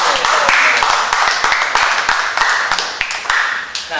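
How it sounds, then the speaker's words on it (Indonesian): A small group at a casual Indonesian talk-show gathering claps in quick, uneven bursts of individual hand claps, close and fairly loud, with voices mixed in. "Tepuk tangan."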